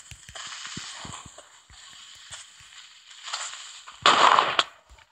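A creeper blows up in a Minecraft survival game, a sudden loud burst of explosive noise near the end that follows quieter game sounds and clicks, brief and close.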